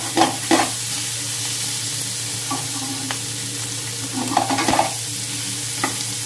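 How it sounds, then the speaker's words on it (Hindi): Dum aloo potatoes roasting in a pan, a steady sizzle with intermittent scraping and clinking of a spoon stirring, several louder bursts of stirring, no voices. "और इसको थोड़ा भूनेंगे, क्योंकि भूनने पे इसका टेस्ट बहुत अच्छा आता है।"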